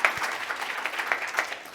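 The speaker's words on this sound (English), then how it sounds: "you truly deserve a round of applause" Audience applause in a conference hall after a plenary debate on sustainability finance, a short burst of steady clapping of moderate loudness.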